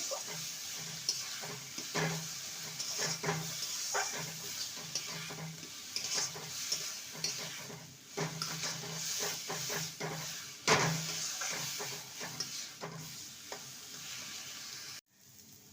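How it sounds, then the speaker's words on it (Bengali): Banana stem and prawns with a little turmeric stir-fry in a pan, a steady sizzle broken by repeated scraping stirs and clatters of the spatula, close and fairly loud, no voices. "ভালো করে কষিয়ে নিতে হবে"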